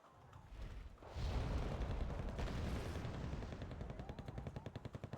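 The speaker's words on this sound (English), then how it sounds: "It's a mortar." Mortar fire in a video game battle: a heavy booming blast swells into a sustained roaring rumble, then gives way to rapid, rhythmic repeated firing near the end.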